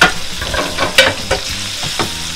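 Shrimp drop into a hot casserole pot for a shrimp-and-beef rice dish, sizzling loudly up close while a spoon scrapes and stirs in repeated rough strokes, no voices.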